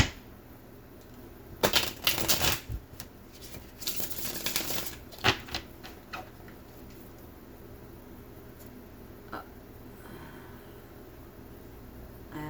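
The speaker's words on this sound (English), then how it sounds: "Give me just a second to shuffle here." Papery riffling and snapping come in bursts as cards are shuffled up close, then the sound settles into quieter handling and soft taps.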